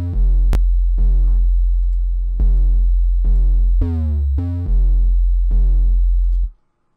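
A distorted synth bass plays a series of punchy, buzzy notes in a rhythmic pattern, with one sliding pitch bend, alone and loud.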